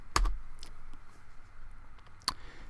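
Fingers tap out a short word on a computer keyboard, giving a few quiet, close key clicks over a faint room hum.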